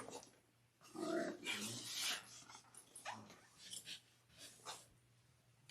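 Loki, a pet dog, vocalizes with whimpering, breathy whines and grumbles in quiet bursts across several seconds, fairly close and soft, with no talking.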